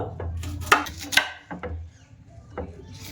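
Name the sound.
chopping vegetables into small pieces with knife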